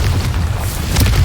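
In Hogwarts Legacy, the Confringo fire spell bursts in a loud, rumbling blast that lasts about a second, with no voice over it.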